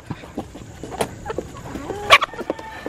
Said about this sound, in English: Chicken love the watermelon.